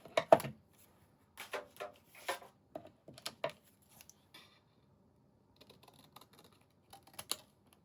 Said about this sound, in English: So we shall just cut our text out.